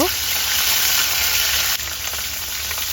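Ground spice paste sizzles in hot oil with cumin seeds in a karahi, a dense, steady frying hiss that continues evenly and loudly throughout.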